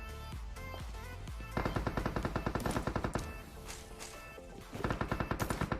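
Heavy automatic gunfire in a PUBG Mobile battle, loud rapid bursts rattling in close succession with a steady din behind them, picking up again near the end.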